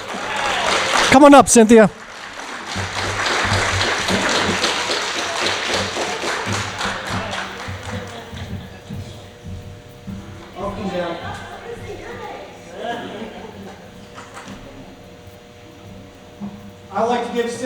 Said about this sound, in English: Ladies and gentlemen, can I get a big round of applause